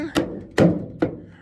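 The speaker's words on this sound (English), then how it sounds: "just tap it in" Three firm thunks spaced roughly half a second apart as a 2004 Ford F250 taillight is tapped into place, each hit close and distinct with a short decay and no talking.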